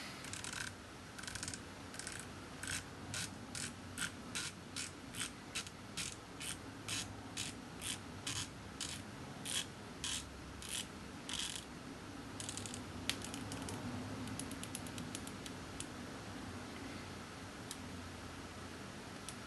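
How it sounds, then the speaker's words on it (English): Harrell's Classic powder measure being adjusted, a rapid series of crisp metallic clicks in a steady rhythm, close up, pausing briefly and then resuming with faster ticks. "the clicks are very precise, so it will be repeatable"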